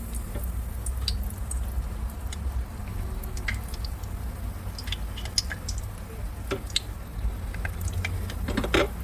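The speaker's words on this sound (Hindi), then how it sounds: "ये हमारा पैन जो है वो गर्म हो चुका है, ऑयल गर्म हो चुका है। अब हम इसमें डोनट डाल देंगे।" Potato donuts fry in a pan of hot oil over medium heat, giving a steady close sizzle dotted with scattered sharp crackles and pops.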